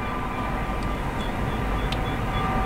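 A freight manifest train rolls past at Cajon Pass, with a Dash 9 and a GEVO locomotive at the rear, producing a steady heavy rumble with faint high ringing tones and a few light clanks.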